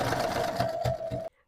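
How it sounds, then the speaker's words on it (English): A sewing machine stitches lace around a neckline in a steady close whir with a rhythmic needle clatter, running about a second and a quarter before stopping abruptly into silence. "I am sewing all the way around the entire piece of lace so that is attached."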